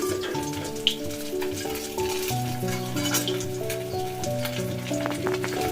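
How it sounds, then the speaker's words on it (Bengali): Katla fish fry in hot oil, a continuous close sizzle with light crackles running steadily beneath background music. "মাছগুলো আমার বেশ লাল লাল করে ভাজা হয়ে গেছে এপিট ওপিট উল্টি পাল্টে ভালো করে আমি ভেজে নিয়েছি"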